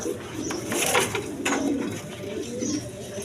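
Healthy pigeons for sale, including Rajgolla breed, coo in soft, repeated throaty rolls at close range, mixed with a busy, continuous background and occasional sharper chirps.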